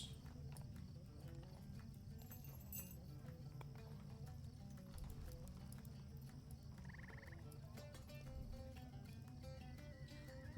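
Faint horse hooves clip-clop in a steady rhythm over a low rumbling soundtrack in the game Lord of the Rings Online, with a brief chime midway.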